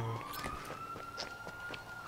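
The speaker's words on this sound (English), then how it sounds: "I can just hear you fucking siren in the distance" A police siren wails steadily far off in GTA V Online, faint and continuous beneath game ambience, with no voices in this stretch.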